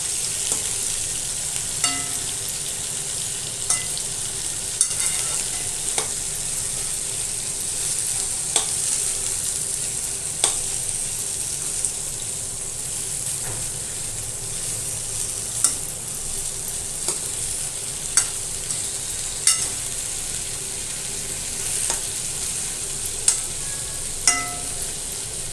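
Stuffed sponge gourd (ghosali) roasting in a pan, a steady soft sizzle running throughout with occasional light ticks and pops, close and continuous with no talk.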